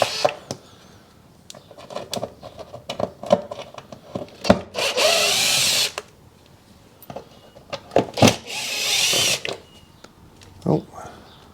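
A small cordless screw gun with a Torx 20 bit works fasteners on the air filter housing of a 2014 VW Up 1.0 petrol, giving two short, loud whirring bursts among scattered clicks, handling knocks and brief talk.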